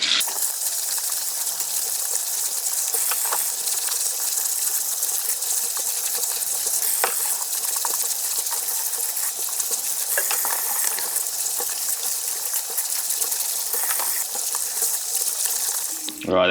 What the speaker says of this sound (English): just have the water running, get the scourer, give them a good scrub and put them straight into a container there with some cold water